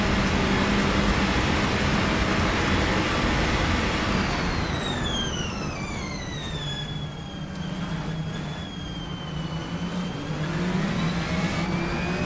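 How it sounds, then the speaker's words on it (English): Racing car engines roar loudly and continuously in an Assetto Corsa racing video game, with rising and falling whining gear tones sweeping across the middle of the run. "these cars are really loud too, so they might be drowning me out."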